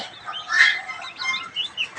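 Turkey chicks and other young poultry chirp in a farm brooder, a busy scatter of thin, high peeps and soft clucks at moderate distance, rising and falling without a steady rhythm and with no talk.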